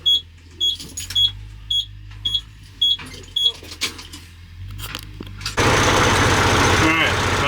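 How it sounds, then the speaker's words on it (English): A truck engine that has lost its fuel prime cranks loudly and steadily without firing, following a stretch of talk and light clatter. "So yeah, it just cranks and does nothing."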